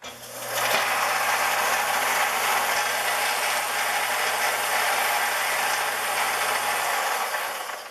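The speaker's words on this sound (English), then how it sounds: "But we'll just use the sander." An electric sander works on a part for a Craftsman band saw power switch installation, a loud, steady whirring grind that starts abruptly, runs almost unchanged for about seven seconds, then begins to wind down.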